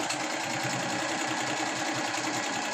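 Singer sewing machine running steadily at slow speed, a continuous close whirring hum with rapid, even stitching pulses throughout and no talk.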